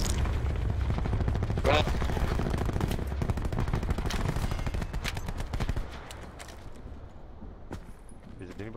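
Gunfire from a 5.56 rifle in a video game set on Alcatraz comes as rapid bursts of shots near the listener, then thins out into scattered single cracks, with voices talking under it.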